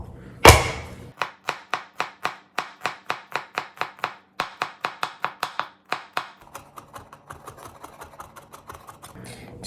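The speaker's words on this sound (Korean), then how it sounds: "마늘을 좀 다져줄 거예요." Garlic cloves being minced with a knife on a cutting board, a rapid, even series of close, crisp chops that continue in bursts, with a louder knock at the start and no talking.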